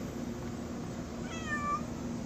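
Outdoors in a yard, a stray cat lets out a single short meow, fairly faint against a steady hiss of background noise.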